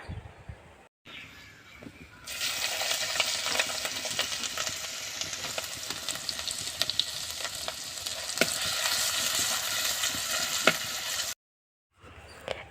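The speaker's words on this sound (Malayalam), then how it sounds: "എണ്ണ നന്നായി ചൂടായി വന്നപ്പോൾ നമ്മൾ ചതച്ച് വെച്ച വെളുത്തുള്ളി ഇഞ്ചിയില്ലേ അത് ഇതിലേക്ക് ചേർത്ത് കൊടുത്തിട്ട്" Crushed garlic and ginger hit hot coconut oil in a pan for fish curry. After a quiet start, a loud, close sizzle bursts up and crackles steadily, then cuts to silence near the end.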